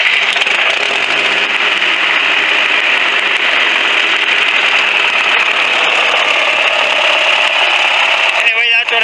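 A car engine with a manifold leak idles with a steady, loud, buzzy drone that holds unchanged for the whole stretch, close by, with a brief rattle at the very end.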